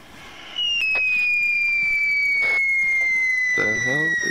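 Fireworks in the ArmA 3 video game: a long rising whistle launches and glides on, followed by sharp crackling bursts, loud and close, with brief voice chatter over it.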